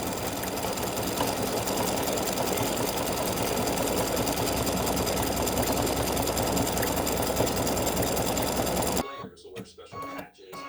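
An embroidery machine stitches satin stitch around the inside of a large freestanding-lace heart earring, a dense steady mechanical whir with rapid needle ticks that runs loud for about nine seconds before stopping, leaving faint room sounds.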